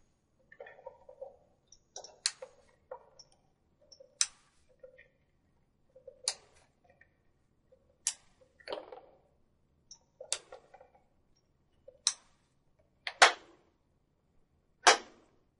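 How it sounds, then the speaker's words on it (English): An Eaton NRX circuit breaker's charging mechanism gives a series of sharp, separate mechanical clicks and snaps at irregular intervals, close and fairly faint, each a brief metallic tick with no talking. "Once the breaker is charged, as indicated by the jarring noise you just heard and this display"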